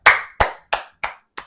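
One person clapping hands five times in a slow, even rhythm, each clap sharp and close with a short decay and silence between, no talk.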